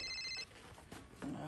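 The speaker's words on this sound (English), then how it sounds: "Now, who is this calling my phone?" A telephone rings with a bright, high electronic trill in a short burst at the start, then again faintly under a noisy background, with a brief voice near the end.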